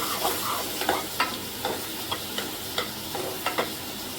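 Tomatoes sautéing in a pan for chicken kulambu, a steady close sizzle with repeated scraping stirs of a spatula roughly every half second, no voices.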